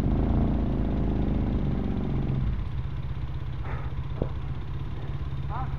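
A motorcycle engine rumbles loudly at low pitch as the rider attempts a stunt, surging then dropping to a steady idle, with faint voices and a brief higher whine near the end.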